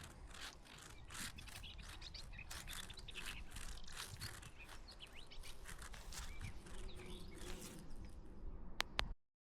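Busy chirping and buzzing fill the air throughout, a dense outdoor chorus of spring birds and insects at moderate distance.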